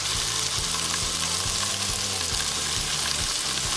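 Chopped onions sizzling in a pan on moderate heat while being broken apart and stirred, a loud continuous hiss with rhythmic scraping strokes, close up and without speech.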